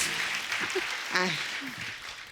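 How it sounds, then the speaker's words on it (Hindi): Studio audience clapping on a comedy talk show, a dense wash of applause running throughout with voices and whoops cutting through over it. "एक बार जोरदार ताली हो जाए।"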